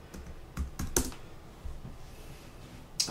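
Someone types a password on a computer keyboard: scattered soft key clicks arrive in small irregular bursts over three seconds, close but quiet, with no voices.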